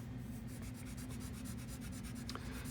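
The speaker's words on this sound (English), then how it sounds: "then you can erase your guidelines" Eraser rubbing out pencil guidelines on paper in a one-point perspective room drawing, a quick rhythmic back-and-forth scrubbing, close and steady, over a low hum.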